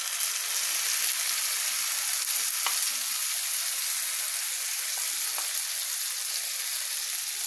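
Tomatoes frying with onions in a pan, a steady close hiss of sizzling throughout with faint occasional pops.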